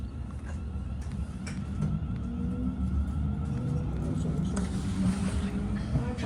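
Inside a Scotrail class 380 train pulling away from Hillington West station, a continuous low rumble and motor drone builds gently, with rising whining tones and faint clicks over the steady noise.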